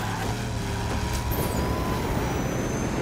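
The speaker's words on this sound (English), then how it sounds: "What's a garbage truck?" Garbage truck in the racing video game Hot Wheels Unleashed, a steady loud engine rumble with hissing air-brake-like bursts and whining tones, heard alone without talk.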